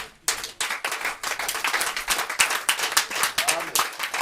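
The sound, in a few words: congregation applause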